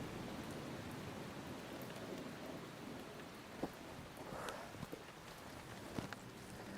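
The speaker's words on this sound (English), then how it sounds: "it's just starting to rain" Light rain beginning to fall on an exposed fell on a climb up Pillar, a steady soft hiss with a few sharper drops or footsteps, fairly quiet and without talk.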